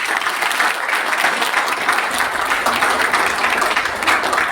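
Steady applause from a crowd at an oath-taking ceremony for a city green volunteer group in Raipur, dense and continuous clapping at close range throughout.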